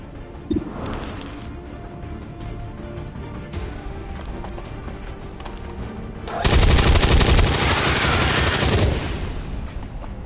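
Gunfire in the XCOM 2 video game: a loud, sustained burst of automatic shots lasting a few seconds, following quieter ambient game sounds and a single earlier sharp report.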